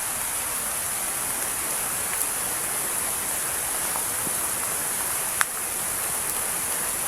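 Very heavy rain pours down steadily, a dense, even hiss holding at one level from start to finish, with a few faint clicks and taps over it and no voices.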